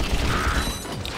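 A short, steady mechanical whir with faint creaking comes from an escalator mechanism on Planet Kerwan in the Ratchet & Clank video game, heard alone at moderate volume.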